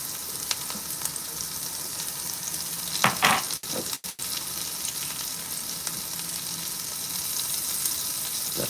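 Butter sizzles steadily in a frying pan while breakfast is cooked, a continuous close hiss with a brief clatter of movement around the middle and no talking.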